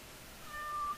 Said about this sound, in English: I love that he meows.